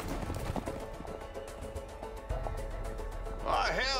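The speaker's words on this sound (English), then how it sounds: "the horses are escaping" Hooves clip-clop as horses escape from a barn in the video game A Way Out, with a muffled trotting rhythm under game music and a horse whinny near the end.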